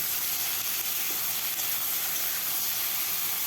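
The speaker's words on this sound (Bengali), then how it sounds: "ভালোভাবে ভেজে নেব।" Cut potatoes and eggplant seasoned with salt and turmeric fry in a pan, making a steady, close hiss and sizzle that does not let up for the whole few seconds.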